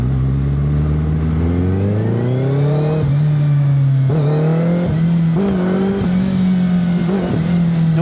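A Suzuki Hayabusa motorcycle accelerates hard. Its loud, close engine note climbs steadily in pitch, then holds a high roar broken by brief dips.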